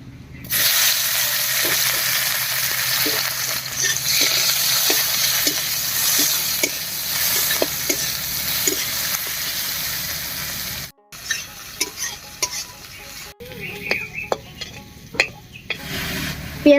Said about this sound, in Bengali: এই তেলের মধ্যেই আর একটু তেল দিয়ে ফোড়ন দেব। ফোড়ন দেব শুধু পেঁয়াজ কুচি দিয়ে।